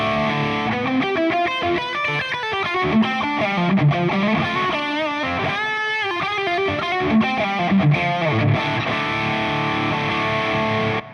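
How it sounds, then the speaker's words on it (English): Heavily distorted electric guitar played through a Soldano 4x12 cabinet simulation, loud chugging riffs and sustained chords running continuously with no talk. "Let's switch on the distortion."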